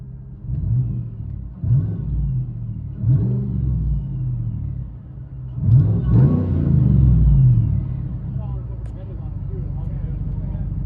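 A 2018 GMC Sierra with a 6.2L V8, Whipple supercharger and straight-piped dual exhaust revs several times, each deep rumbling swell rising and falling, with a longer, louder rev near the middle before it drops back to idle.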